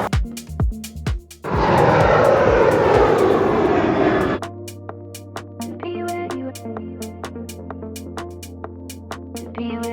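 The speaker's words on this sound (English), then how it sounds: "we're at the airport, 12:50, about the time I wanted to hit it at, so get in there, fly off, back to Portland" Aircraft at Los Angeles airport, heard as a loud, close engine roar that holds for a few seconds, then drops to a steady lower hum under scattered clicks and tones.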